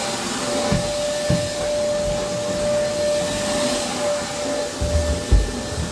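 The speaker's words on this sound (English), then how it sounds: "This vacuum cleaner is called the Eureka Easy Clean." A Eureka Easy Clean vacuum cleaner runs steadily and close by, its broad whooshing drone holding a thin constant whine, with a few low thumps and bumps near the start and again toward the end.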